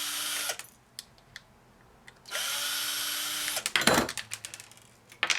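A power drill backs screws out of a laminator motor being scrapped. Two close, loud whirring runs are separated by brief clicks and pauses, with a short rattling burst near the end.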